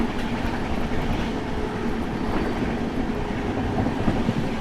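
Howrah Rajdhani Express rolling slowly through fog, a steady close rumble of wheels and carriage with a low hum, faint rail clatter throughout, no voices.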